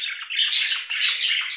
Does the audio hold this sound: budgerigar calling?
yes